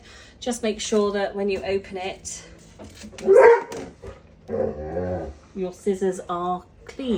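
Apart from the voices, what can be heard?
dogs barking and fighting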